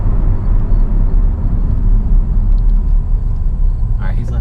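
A 495 HP C8 Chevy Corvette engine rumbles loudly while driving, a deep heavy low-end roar that pulses steadily, with some wind noise toward the end.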